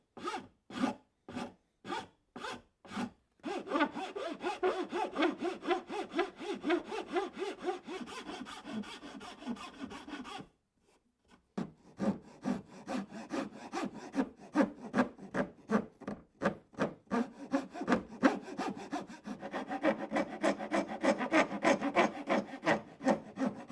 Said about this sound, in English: One thing you'll notice when you're filing, the file teeth get gummed up with sawdust.